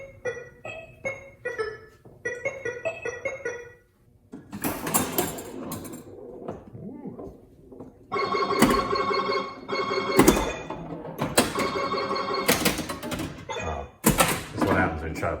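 A Bally/Stern KISS pinball machine clatters loudly with flipper thunks, solenoid knocks and bursts of electronic effects and music, the busy mechanical banging coming in dense clusters.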